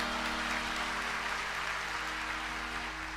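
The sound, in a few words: audience clapping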